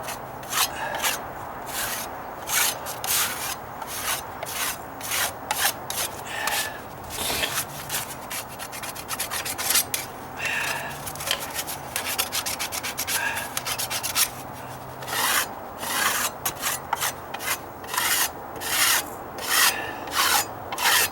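Dried flaky material being scraped off wooden deck steps under dry-rot repair, a run of rough rasping strokes in irregular bursts, close and fairly loud, with no talking.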